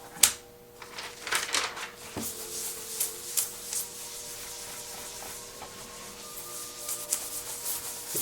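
Tarlatan cloth wiping ink off a solarplate during printmaking, faint dry rubbing and scrubbing strokes in irregular bursts, close and quiet.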